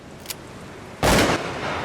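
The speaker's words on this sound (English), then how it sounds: "I heard a gunshot that was pretty close." A single sharp gunshot close by, a sudden loud burst followed by a lingering noisy tail over quiet background hiss, with a faint small pop just before.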